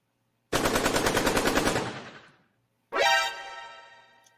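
Video game machine gun fires one sustained rapid burst of about a second and a half, then a second shorter burst after a pause, loud and close with no talk.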